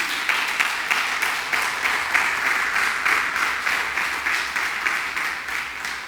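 A church congregation claps for the Lord in a steady, rhythmic round of applause, loud and close, with faint voices underneath.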